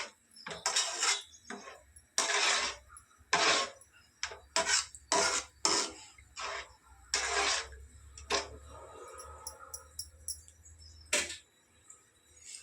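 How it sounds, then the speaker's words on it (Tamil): A spoon scrapes and clinks against a pan as potatoes with salt are stirred for urulaikkilangu kurma, giving a run of short, close, irregular scraping strokes with brief pauses between them and no talk. "உப்பு போட்டு நாம் கிண்டி விடணும்."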